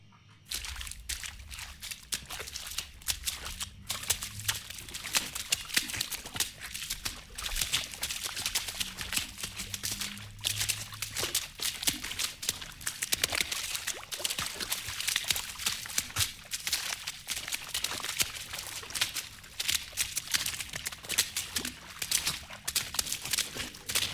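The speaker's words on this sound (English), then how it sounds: "it is splashing water fast" Water splashes fast and continuously as an ASMR trigger, a dense, close stream of quick wet slaps and sloshes at a steady, soft level with no talk.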